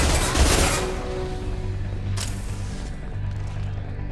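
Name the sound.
gunfire from allies in Mass Effect 2 video game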